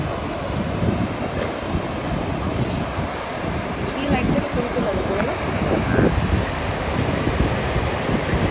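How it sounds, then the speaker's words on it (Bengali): Sea waves breaking on the beach at Mandarmani, a loud, continuous roar of surf heard close by, with a broad rushing wash and some wind buffeting the microphone. "পাওয়া যাচ্ছে পুরো সমুদ্রের ঢেউ আস্তে আস্তে পড়ছে, আর ভীষণ গর্জন বোঝাই যাচ্ছে।"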